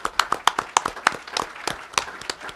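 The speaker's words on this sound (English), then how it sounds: "I just want to give them all a round of applause for being here" Scattered claps from a small audience at a Hall of Fame ceremony, distinct individual hand claps in an uneven, sparse rhythm, fairly close and moderately loud.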